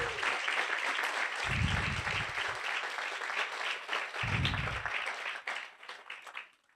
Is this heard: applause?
yes